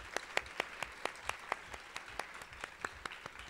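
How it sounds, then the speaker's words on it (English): A small audience at a parenting talk claps in a regular, rhythmic beat, each clap distinct and fairly quiet, keeping a steady pace for several seconds. "Hopefully she can hear our loud applause all the way there."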